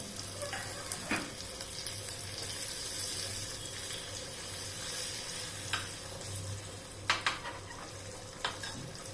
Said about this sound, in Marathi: आता आपण वरतून तडका देतोय आता आपण लाल सुक्या मिरच्या घालतोय